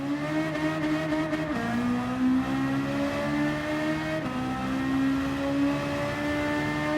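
An upgraded Peugeot 205 GTI engine in Gran Turismo 7 drones loudly and steadily, its pitch stepping up sharply twice as it shifts through gears, buzzing with a raspy edge.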